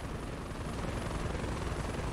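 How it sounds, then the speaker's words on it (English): A helicopter in a GTA roleplay game gives off a loud, continuous rotor and engine roar, steady and close for the whole stretch, with no speech over it. "Yeah, somebody's in this helicopter."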